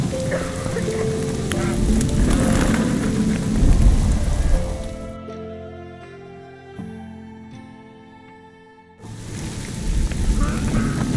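Rain in The Witcher 2: Assassins of Kings falls in a dense, loud hiss with low thunder rumbles, briefly dropping away to a quieter tonal background before the downpour returns.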